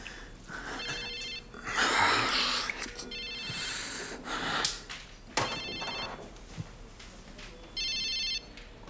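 A mobile phone rings in a repeating electronic pattern of short bursts at regular intervals. Heavy breathing, rustling and handling noise run close by in between the rings.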